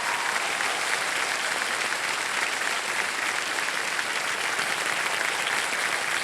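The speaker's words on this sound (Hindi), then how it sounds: "ताली शोर मचाते रहिएगा," Dense, steady applause and cheering from a game show studio audience, loud and sustained throughout with no pause.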